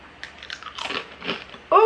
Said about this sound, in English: Oh, they're really crunchy.